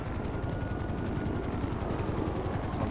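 Video game helicopter sets down, its steady rotor thrum and engine whine filling the whole stretch at an even, close, loud level with no pauses.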